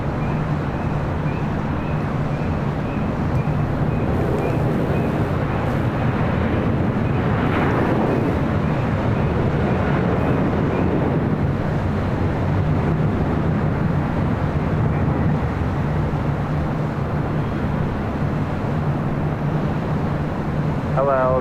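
A Boeing 787 Dreamliner in retro livery moves at LAX, its broad jet roar sustained and loud under wind buffeting, with people talking over it throughout.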